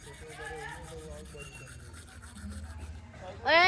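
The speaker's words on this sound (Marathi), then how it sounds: "दात घासले तोंड धुवायला या." Toothbrush scrubbing teeth during a village morning routine, a steady rubbing rasp with background voices talking throughout, ending in a brief louder burst of activity.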